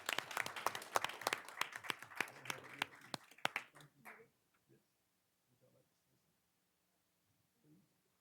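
A small group at a county board of commissioners' meeting claps sparsely for about four seconds, the individual claps distinct and near, before the room falls nearly silent with faint rustling.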